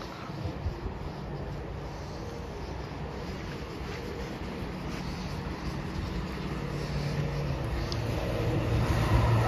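A heavy, continuous low rumble of a freight train rolling past Stowmarket station on the Great Eastern Main Line, steady and loud with wind noise, building slightly toward the end.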